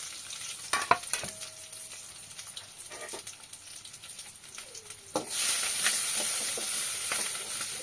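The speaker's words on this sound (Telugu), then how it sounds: "అయితే బాగా కలిపేసుకుంటున్నాను" Green chillies and onions frying in a pan for an egg curry, a spoon knocking and scraping through them at first, then a sudden burst of loud, steady sizzling that fills the rest of the clip.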